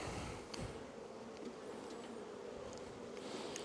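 German Buckfast honey bees swarm around an open hive during a summer apiary inspection, making a dense, steady buzzing hum that stays close and loud from start to finish with no voices.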